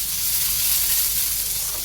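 Onion frying in oil in a pan as the base for dal, a steady close sizzle and hiss running evenly through the moment with no talk over it.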